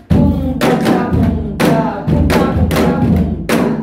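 Janggu drum played in a trot song rhythm, a series of strong, regular thumping beats with lighter taps between them, close and loud with no talk over it.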